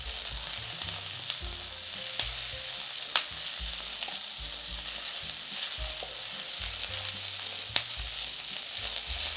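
Spring onions fry in a hot pan for black pepper shrimp, giving a steady, close sizzle with occasional sharp clicks and taps of a utensil against the pan throughout.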